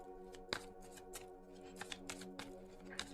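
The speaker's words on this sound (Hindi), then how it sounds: "शफल कर लेते हैं कार्ड्स" Tarot cards shuffled by hand during a reading, a soft papery riffle in several quick bursts over a steady background hum, fairly faint and close.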